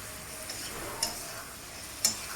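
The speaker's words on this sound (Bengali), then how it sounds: "টমেটো আর পেঁয়াজের সাথে মিশিয়ে নেব। ভালো করে মেশাতে হবে" Chopped tomato and onion frying in a pan give off a faint, steady sizzle while being stirred, with two sharp clicks of the spatula against the pan about a second apart.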